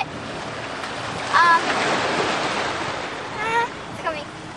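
Ocean waves wash against a rocky coast in a steady roaring surf, with wind buffeting the microphone and brief voices rising over the water now and then.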